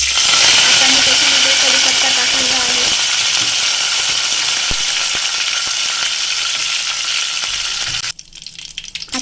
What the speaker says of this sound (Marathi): आता मी त्याच्यामध्ये जिरा मोहरी टाकलेली आहे